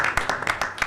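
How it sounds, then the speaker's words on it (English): Clapping at a public hearing meeting, where staff are applauded: a handful of distinct, sharp hand claps in quick irregular succession, close and moderately loud, briefly heard. "Give yourselves a round of applause there."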